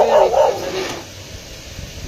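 A dog gives a couple of loud, close barks at the very start, then the sound fades to quiet room tone.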